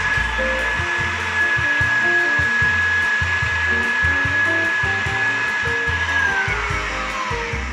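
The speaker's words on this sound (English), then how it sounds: "if you're using your hand mixer, you just want to whip it until it starts to get foamy" A hand mixer whips vegan potato protein into a foam at medium speed, giving a loud, steady motor whir with a sustained whine throughout, close up and with no talking.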